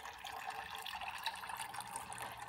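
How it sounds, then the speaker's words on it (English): Aquarium water pumped up through a pipe into the top growing medium of a plant wall, a steady soft trickle and splash running continuously, close and quiet with no voices. "the water from the aquarium is being pumped up through the pipe"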